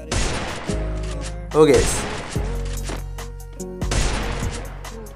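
Gunfire in Free Fire, with loud bursts of shots that start and stop in short spurts and each leave a ringing tail, over steady game music. A voice briefly exclaims near the middle.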